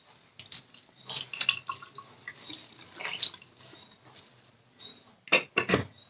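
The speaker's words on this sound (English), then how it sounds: "we just want to squeeze that water from the hair" Water squeezed from synthetic hair drips in scattered drops and small splashes close by, irregular and quiet, with a brief cluster of wetter patters near the end.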